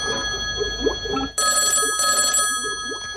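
A telephone rings repeatedly as a radio drama sound effect, bright steady trills with a short break midway, loud and close with no talk over it.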